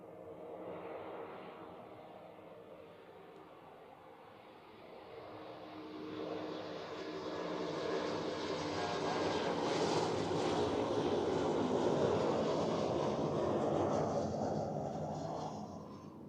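An Air Dolomiti airliner arriving from Frankfurt lands at Zurich Airport, its jet roar swelling from faint to loud as it approaches and holding strong before easing slightly, heard from a distance with no talking.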